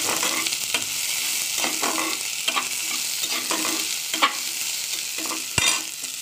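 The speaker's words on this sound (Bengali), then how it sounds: "পেঁয়াজটা আমার ভাজা হয়ে গেছে" Chopped onions frying in a pan, a continuous bright sizzle broken by regular stirring scrapes roughly every half second, close and steady, with a sharp knock near the end and nobody speaking.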